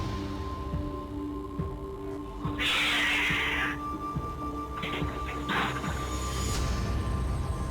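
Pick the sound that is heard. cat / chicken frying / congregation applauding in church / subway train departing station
cat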